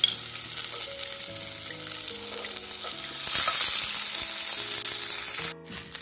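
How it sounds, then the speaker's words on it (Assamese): Ground ginger, green chilli and garlic fry in hot oil with cloves in a pan for a chicken dish, giving a steady loud sizzle with occasional stirring scrapes over soft background music, no talking. "এইখিনি ভালকৈ ভাজি ল'ম।"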